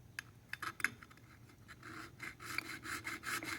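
A metal file rasps back and forth over the notches of a motorcycle clutch outer basket in short, quiet strokes, starting irregular and then settling into a steadier rhythm.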